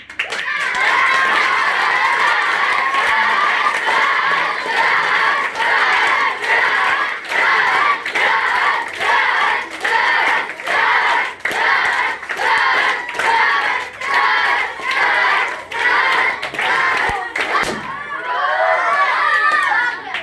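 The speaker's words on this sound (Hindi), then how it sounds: "अब हमारे लिए ताली बजाइए।" A crowd at a gathering in Surat, Gujarat claps loudly and steadily for about seventeen seconds while voices cheer and shout, then the applause stops abruptly and a brief stretch of voices follows.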